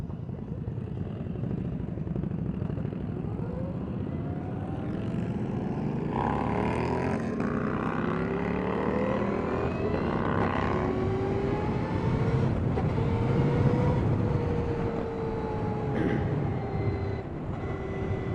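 A Victory Empulse TT electric motorcycle being ridden, a steady whirring drone with rising and falling whine tones as speed changes, heard continuously alongside road and wind noise.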